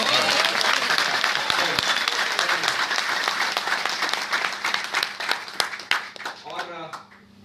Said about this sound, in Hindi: ताली ताली से पता चलेगा अच्छा था कि नहीं था।